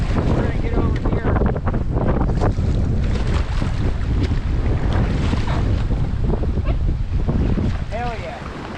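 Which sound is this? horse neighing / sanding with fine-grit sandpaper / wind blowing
wind blowing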